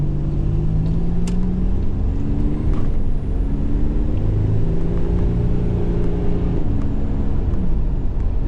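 A 1987 Buick Grand National with a big turbo accelerating under throttle during a test drive, a loud, continuous engine drone rising and falling in pitch, heard close from inside or under the car.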